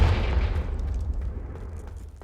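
A Confringo fire spell in Hogwarts Legacy blasts with a loud, sustained booming roar that is strongest at the start and rumbles on for over two seconds before easing slightly.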